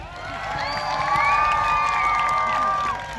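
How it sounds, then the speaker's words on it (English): A crowd cheers and whoops at a jousting tournament at Hampton Court Palace, a sustained outdoor roar with high shouts and some children's voices lasting about three seconds, fairly loud. "Let's give him a big cheer!"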